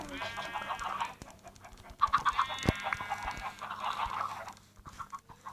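Minecraft chickens clucking repeatedly in short, busy bursts, a flock close by with steady chatter throughout and a few sharper squawks.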